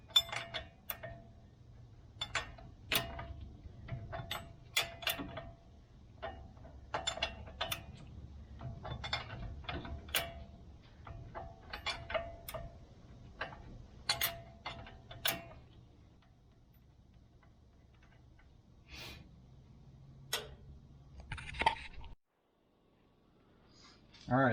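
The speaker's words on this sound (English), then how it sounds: "I'll take the 18mm nut off the upper ball joint." A ratchet works an 18mm nut off the upper ball joint of a 2015 GMC, giving bursts of quick clicking ticks with short pauses, close but fairly quiet, ending in near silence.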